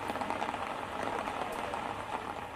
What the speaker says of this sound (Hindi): बारिश लगातार हो रही है